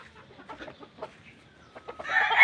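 Gamecock stags under five months old clucking and giving short calls in bursts, with louder crowing-like noise rising near the end.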